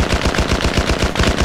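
Rapid automatic gunfire in the video game S.T.A.L.K.E.R., a loud, close burst of evenly spaced shots firing in quick succession throughout.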